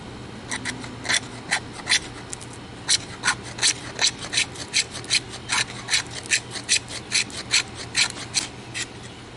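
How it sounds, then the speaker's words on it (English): A small Mini Kephart knife blade scraping a stick of fat wood to build a pile of shavings, a steady series of about two dozen close, rasping strokes in an even rhythm with no talking. "now that I've got my piece of fat wood here, let's go ahead and give this a scrape, get a little pile going on"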